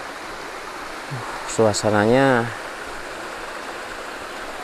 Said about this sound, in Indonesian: di sebelahnya ini ada sungai kecil nih